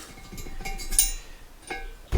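A worn exhaust valve rattles loosely in its guide in a TVR Tuscan cylinder head on a home rebuild, giving a few sparse, light metallic clinks up close, the last one sharper and louder.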